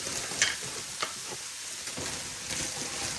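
Black truffle oil stirred around in a frying pan, a continuous soft sizzle with a few light scraping taps from the stirring, steady and fairly close with no speech.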